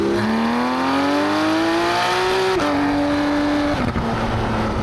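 A Porsche 991.2 engine revs hard toward the red line, its loud, steady note rising in pitch, dropping briefly at two gear changes, then climbing again.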